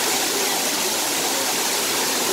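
A big waterfall pours in a dense, constant rushing hiss, loud and close throughout, with no voices.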